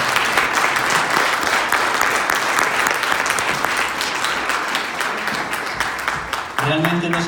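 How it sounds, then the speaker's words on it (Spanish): Church congregation applauding loudly and steadily during a Spanish-language service, dense clapping filling the room for several seconds before a voice and music-like tones cut in near the end. "Yo creo que el Señor se merece un aplauso muy fuerte."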